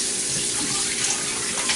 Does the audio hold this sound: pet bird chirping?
no